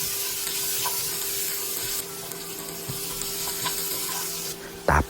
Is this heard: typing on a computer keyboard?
no